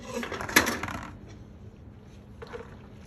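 Cooked macaroni noodles slide from a pot into a colander with a sudden clattering metallic splash, then a softer trailing rattle and a brief second knock, close by.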